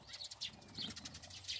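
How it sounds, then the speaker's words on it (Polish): Birds flap their wings among the branches of a rose bush in a garden, with quick, light rustling bursts and faint chirps, fairly quiet and close by, with no voices. "Co te ptaki tam robią? Chyba gniazdo mają w róży."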